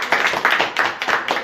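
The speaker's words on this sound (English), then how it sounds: "Everyone give Marion a big round of applause." At a public speaking workshop, an audience claps for Marion in a quick, even, rhythmic patter that sounds close and fairly loud for a short burst.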